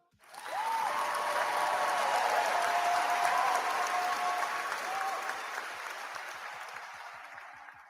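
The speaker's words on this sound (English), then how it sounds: "Sucks hearing that damn applause, doesn't it?" An audience breaks into applause that swells quickly, holds as dense, sustained clapping for several seconds, then slowly fades toward the end.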